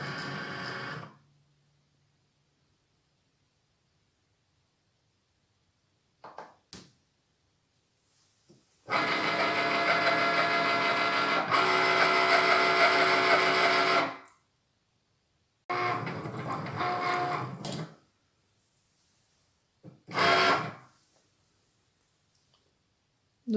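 A Cricut cutting machine drawing with a pen, heard as bursts of whirring motor movement with soft clicks, separated by stretches of near silence, close and fairly quiet.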